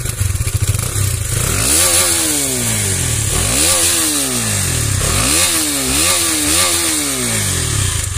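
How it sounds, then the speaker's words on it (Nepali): A KTM Duke 250 motorcycle exhaust is revved hard in repeated rising and falling bursts, loud and close with a rough, buzzing engine tone and no talking. "अनि एक्जस्ट एक्जस्ट पनि दामी छ, दामी साउन्ड आउँछ."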